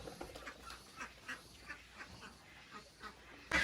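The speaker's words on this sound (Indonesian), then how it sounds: "beternak bebek juga menarik bagi napi" Ducks quacking on a farm run by prison inmates, a scattered series of faint nasal calls repeating irregularly across the stretch, distant and soft with no talk.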